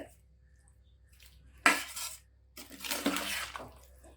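A spoon clinks and scrapes in a metal vessel while kodo millet rice is mixed for biryani, with two short bursts of stirring separated by a pause, close and fairly loud.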